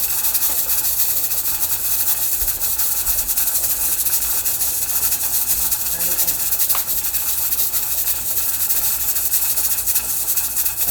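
Pressure canner on a stove while canning green beans, a steady loud hiss of escaping steam with a faint rattling jiggle from the weight, continuous throughout.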